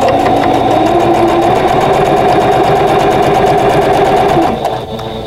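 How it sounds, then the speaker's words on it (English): A sewing machine runs steadily and loudly, stitching two rows of quilt blocks together with a fast, even mechanical rhythm that slows and stops near the end. "So let's sew these two rows together."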